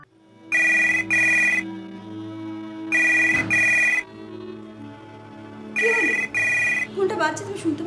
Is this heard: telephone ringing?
yes